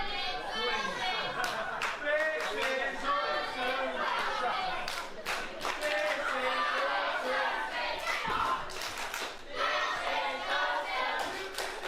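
Wrestling show crowd cheering for Alex Aces, a busy arena roar of shouts, claps and chatter rising and falling in bursts, with a commentator talking over it.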